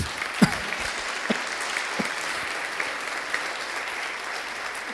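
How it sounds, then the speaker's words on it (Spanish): A church congregation applauds during a Spanish-language sermon, a soft, steady patter of clapping with a few louder individual claps standing out. "Demos un aplauso a Cristo por eso"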